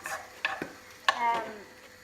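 Prawn chow mein being stirred in a pan, a few close scraping and clinking strokes of a utensil over a faint sizzle, short and fairly quiet.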